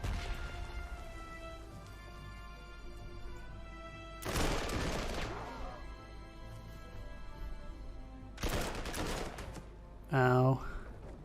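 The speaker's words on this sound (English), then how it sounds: "Huge number of artillery." Artillery fire in the Panzer Corps 2 Spanish Civil War battle at Toledo: two heavy, crashing bursts a few seconds apart over a steady battle drone, followed by a short vocal cry.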